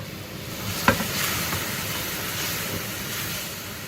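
Half a stick of butter sizzles in a pan as a soft, even hiss, with one sharp clink near the start.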